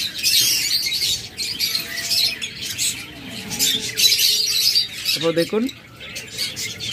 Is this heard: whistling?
no